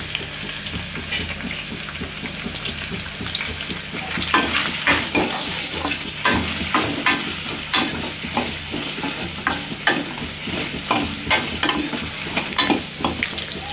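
Garlic and green chillies fry in a pan for an Andhra-style horse gram dish, with a continuous close sizzle and frequent scraping stir strokes of a spoon.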